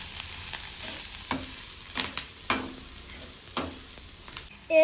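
Onion being stirred and sautéed in a pan for egg masala, with a soft steady sizzle broken by several sharp scrapes and knocks of the spoon against the pan, close and fairly quiet.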